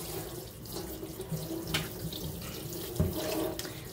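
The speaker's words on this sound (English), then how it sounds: "now that we got our chops rinsed off" Kitchen sink tap running steadily while turkey chops are rinsed, a continuous close splashing rush with occasional clunks and splatters, no talking.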